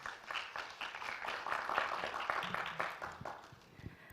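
Audience applause at a startup pitch contest semifinal, a steady wash of many hands clapping that swells in the middle and thins toward the end, filling the room without speech.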